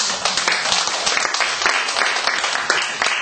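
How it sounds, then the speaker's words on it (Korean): Congregation applause at a church missionary rally, a dense steady wash of many hands clapping close by and filling the whole stretch with a faint voice beneath. "하나님께 먼저 영광의 박수를"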